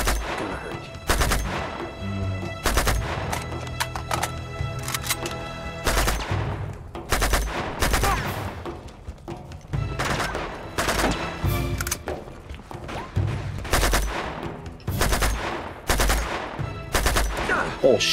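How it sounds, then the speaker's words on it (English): Gunfire in the action video game Uncharted 2: Among Thieves, with loud rapid bursts of automatic weapon fire and single shots repeating throughout over game music, with no talk. "Can't stealth kill all these guys, might as well just start shooting."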